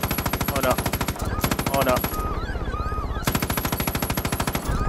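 Rapid machine-gun bursts fired at a helicopter in the Far Cry 5 video game, loud and sustained in two long volleys with a short gap, and a voice briefly speaks over the shooting.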